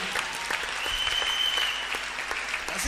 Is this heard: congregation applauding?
yes